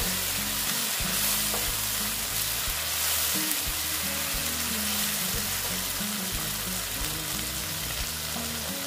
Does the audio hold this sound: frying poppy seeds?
yes